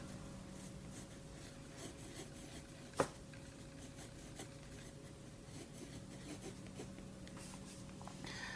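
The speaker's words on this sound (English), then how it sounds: "Let me give you a little writing test." A pen with purple shimmer ink scratches across paper, a very faint, soft rasp that runs steadily with one small tap partway through. It is heard alone in a quiet room.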